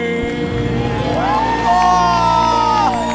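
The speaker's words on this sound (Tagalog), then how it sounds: "Palakpakan na may kasamang sigaw!" A live television variety show audience claps, whoops and cheers loudly in a dense burst, while a voice rises over the crowd.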